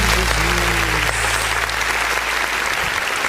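Church congregation clapping together during a worship service, a dense, steady wash of applause filling the room, loud and continuous with a sustained tone beneath it.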